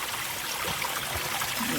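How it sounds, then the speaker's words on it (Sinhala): A mountain water stream on Wangedigala runs with a steady, close rushing and gurgling flow, unbroken from start to finish with no voices. "ඔන්න තියෙනවා වතුර පාර"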